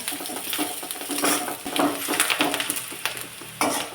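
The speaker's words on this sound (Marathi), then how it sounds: "थोडासा कांदा परतून घ्यायचा" Onion being lightly sautéed in a pan, just until softened and not browned, for a cabbage vegetable dish: a steady close sizzle broken by repeated scraping stirs and metal-on-pan clinks.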